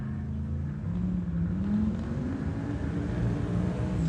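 Drag race car running down a drag strip during the heavy metal category, a steady loud low engine roar that carries throughout with no pause.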